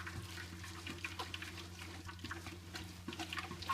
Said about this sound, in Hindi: गेहूं को डालने के बाद हम इसमें थोड़ा सा पानी डालेंगे